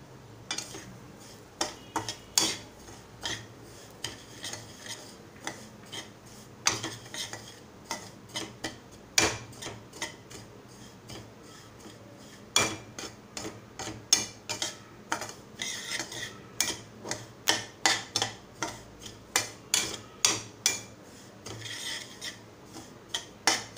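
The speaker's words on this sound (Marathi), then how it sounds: "त्याच्यामध्ये रवा घालून 5 मिनिटं भाजून घेणार आहे" Semolina roasts in ghee in a pan, a spoon rasping and scraping across the grains in a long run of quick, irregular strokes, fairly quiet and close.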